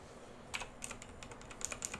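Quick, faint keystrokes clatter on a computer keyboard in short irregular bursts as someone types a chat reply, soft and close with no voices.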